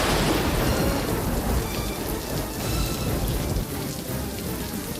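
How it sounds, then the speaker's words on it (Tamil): Heavy rain pours steadily in a thunderstorm, with loud, continuous roaring downpour and rumbling thunder rolling underneath throughout, no voices. "இவ்வளவு இடியும் மழையுமா இருக்கு"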